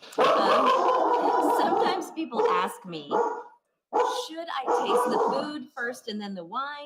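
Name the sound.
dog barking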